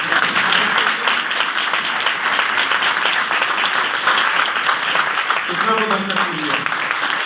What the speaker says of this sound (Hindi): खुदा के कलाम के लिए जोरदार तालियां।